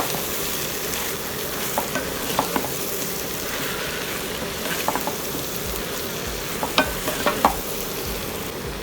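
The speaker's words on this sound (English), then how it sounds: "We stir the mushrooms into the ingredients." Mushrooms stirred into other ingredients in a pan, giving a steady soft sizzle with scattered scraping strokes of the spoon throughout, moderately quiet and alone.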